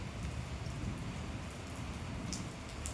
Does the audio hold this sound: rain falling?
yes